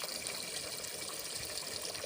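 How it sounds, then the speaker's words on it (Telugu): Water from soaked idli rice draining away as the bowl is tipped, a steady soft trickling pour held close at low level, with no voices. "ఇట్లా వంపాలండి అప్పుడు నీళ్ళు నీళ్ళు పోతాయి"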